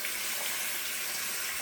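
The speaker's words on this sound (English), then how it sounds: "I'm gonna run this under some warm water" Warm tap water runs steadily from a bathroom faucet over a toothbrush, a continuous even hiss of flowing water with no voices.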